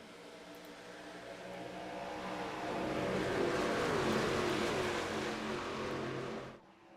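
Race cars accelerating on a restart at Charlotte in the iRacing video game: a dense engine roar swells as the pack pulls away, holds loud and steady, then cuts off abruptly near the end, with no talk over it.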